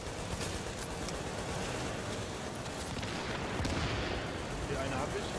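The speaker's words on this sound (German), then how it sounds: "wir stehen unter Dauerbeschuss von diesen automatischen Waffen" Sustained automatic weapons fire in the shooter game Tom Clancy's The Division, dense and continuous rattling bursts throughout with a brief louder swell near the end, no talking.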